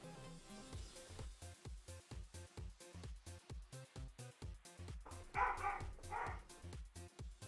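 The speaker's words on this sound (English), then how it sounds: "Sorry if you can hear the dogs." Dogs bark in a steady, rapid series of woofs, fairly faint and somewhat distant in a home, with a couple of sharper, higher yelps near the end and no talking.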